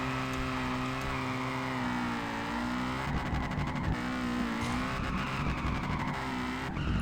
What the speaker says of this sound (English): The stock car and this car do drift in a different style fashion, sort of, because they've been tuned a lot